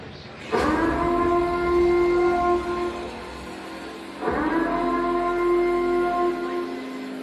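A siren wails twice at a fight event in Lake Charles, Louisiana, each blast rising sharply then holding a loud steady tone for several seconds before a brief dip and a second long wail.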